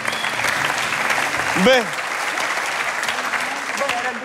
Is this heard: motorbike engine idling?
no